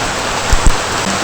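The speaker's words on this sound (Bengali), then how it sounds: "দেখো বাইরে এত বৃষ্টি পড়ছে" Heavy rain falls in a dense, steady hiss, with a couple of soft thuds breaking through.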